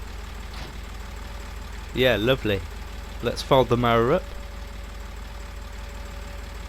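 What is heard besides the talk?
60 horsepower 4-wheel-drive tractor engine running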